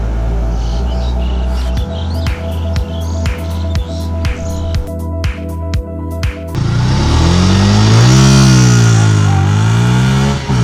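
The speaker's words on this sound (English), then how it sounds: "let's ride this motorcycle and see how it feels" A 2019 Yamaha FZS V3 motorcycle engine revs in a series of sharp, rhythmic bursts, then opens up into a loud, sustained roar as the bike accelerates and rides off.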